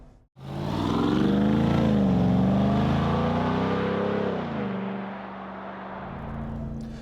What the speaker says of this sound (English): In sport mode, the paddle shifters will give you pretty quick upshifts and downshifts.